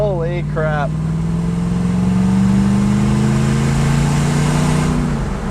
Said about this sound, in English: The GX sounds like a beast right now.